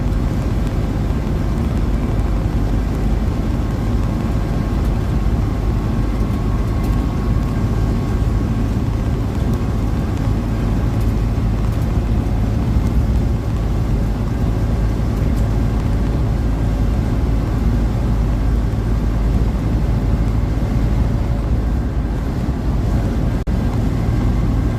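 A van cruising at highway speed on a road trip, with a steady low engine and road drone that stays loud and unbroken throughout.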